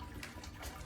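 Water rushing through a homebrewing pump as it is primed by opening a valve on the outlet side, a steady close gushing flow that holds for the whole second.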